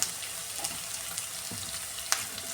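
Ivy gourd and carrot with onions sauté in a pan, giving a low, even sizzle with a few soft clinks and scrapes of stirring, heard close and alone.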